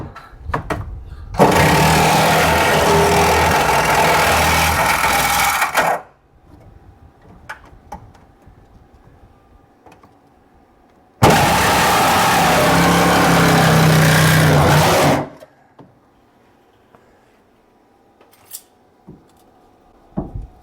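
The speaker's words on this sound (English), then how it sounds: "I'm going to use the Sawzall because I don't want to use the angle grinder" A Sawzall reciprocating saw cuts through the metal body of a Jeep TJ in two loud, steady buzzing runs of about five and four seconds, separated by quiet pauses with light clanks and handling noises.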